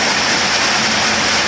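Steady rain pours down while a pet parrot bathes in it, a dense, even wash of falling water without pause and no voices.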